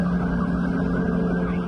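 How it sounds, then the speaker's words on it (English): Emergency vehicle sirens wail in the distance as white wildfire smoke rises from behind trees near Canfield Mountain, Coeur d'Alene, Idaho. The tone is steady and continuous throughout, with no talking. "Sirens heard in the distance"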